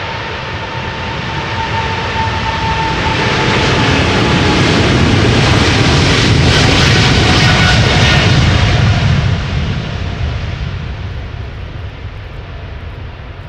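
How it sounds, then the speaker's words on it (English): A Boeing 777 bound for Sao Paulo takes off from Schiphol's Polderbaan runway, its jet engine roar building loud and broad, peaking mid-way as it passes nearby, then slowly fading as it climbs away. "777 to Sao Paulo is coming here after all"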